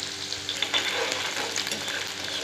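Chopped onions with cumin fry steadily in hot oil, giving off a continuous, even, close-up sizzle with light crackling throughout and no voices.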